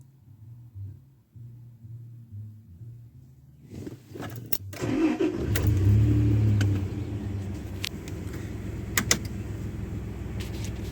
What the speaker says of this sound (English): Engine running, headlights on.